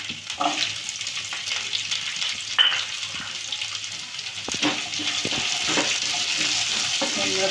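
Chillies and thick onions fry in a pan with a steady, close sizzle and hiss, broken by scattered clicks and scrapes of stirring.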